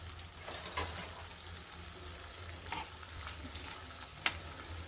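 Cashews and ginger fry in a pan for pongal, giving a steady low sizzle broken by a few brief spatula scrapes and clinks, close and without talk.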